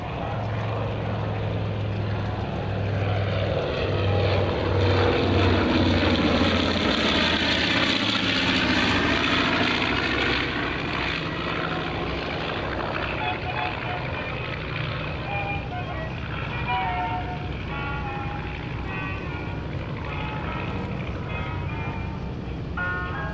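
B-25J Mitchell World War II bomber making a low flyby at an airshow, its piston engines swelling into a loud roar with a sweeping pitch shift as it passes, then droning steadily away under distant crowd talk.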